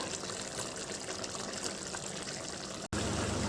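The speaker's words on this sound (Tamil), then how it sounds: "இந்த நேரத்தில் லெமன் ஜூஸ் சேர்த்துக்கிறேன்" Lemon juice poured into simmering mutton biryani gravy, a steady close liquid trickle and sizzle running continuously, broken by a brief cut before resuming.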